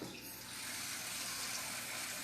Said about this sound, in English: I'm going to add some water, just enough to cover the carrots